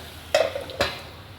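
Masala roasting for dhaba-style palak paneer is stirred in a pan, with two distinct metallic scrapes of a spoon against the pan over a soft, steady frying hiss.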